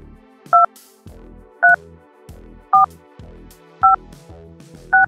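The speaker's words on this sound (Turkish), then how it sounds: "Artık telefon bağlama sistemleri darbe ile değil multi frekans sistemiyle çalışıyordu." Five evenly spaced DTMF telephone keypad tones, each a short clean dual-tone beep about a second apart, over a quiet background with faint low noise.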